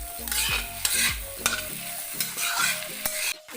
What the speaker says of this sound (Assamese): আৰু এতিয়া এইখিনি অলপ ভাজিব লাগিব।